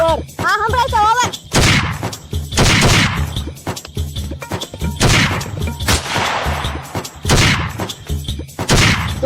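Loud, close gunshots in a comedy skit, fired in repeated heavy bursts with crashing impacts, heard among people's voices.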